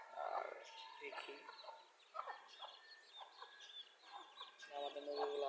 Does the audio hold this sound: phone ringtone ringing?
no